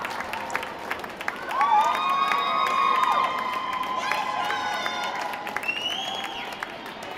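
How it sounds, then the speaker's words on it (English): A home crowd at a broomball nationals final erupts in cheering and shouting after a goal, with high excited voices and whistles swelling loud and sustained before settling into continued crowd noise. "And the crowd is absolutely loving it here."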